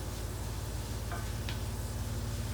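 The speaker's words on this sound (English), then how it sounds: "I'm just going to put some onions in there." Onions cook in a pan for shrimp pasta Alfredo, a steady close sizzle over a low constant hum, with a couple of faint short clicks partway through and no voices.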